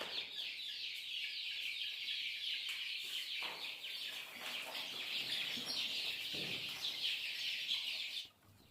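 Young chicks being fed egg feed, a steady chorus of high cheeping and peeping close by that runs continuously and stops abruptly near the end.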